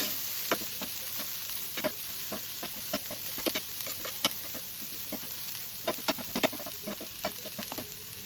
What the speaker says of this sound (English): Open, stir again and cook for another 2 to 3 minutes until the vegetables are perfectly sauteed.